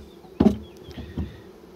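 Honey bees buzz around hive frames during colony splitting and hive inspection, a near droning hum with a louder brief surge as insects pass close.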